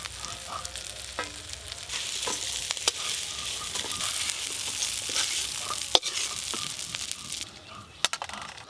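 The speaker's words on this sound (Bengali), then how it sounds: "চিংড়ি মাছগুলো লাল লাল করে ভেজে নিয়েছি" Shrimp fry in hot oil in a pan, a soft continuous sizzle with scattered clicks and taps of a utensil, fairly quiet and close.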